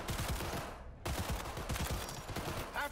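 Repeated rapid gunshots from an aimed-down-sights gun in Cyberpunk 2077, fired in quick bursts with a brief pause near the middle, close and punchy in a chaotic firefight.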